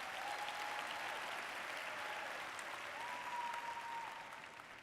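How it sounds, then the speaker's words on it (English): Audience applause at a Baltimore training event, a steady wash of many hands clapping at moderate level, quiet overall, holding evenly and tapering slightly at the end. "So please give yourselves a round of applause."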